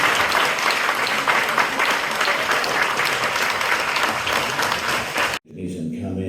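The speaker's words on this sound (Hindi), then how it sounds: "जोरदार तालियां।" An audience at a Savarkar lecture in Ipswich, England gives loud, sustained clapping that cuts off abruptly near the end, after which a voice speaks.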